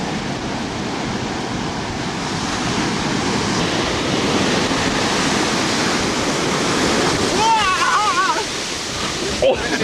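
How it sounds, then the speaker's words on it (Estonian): Big ocean waves breaking on an Indian Ocean beach in Australia, a loud continuous roar of surf with wind buffeting the microphone, and a voice briefly calling out near the end. "No ei tee, näed, kus suur laine tuleb."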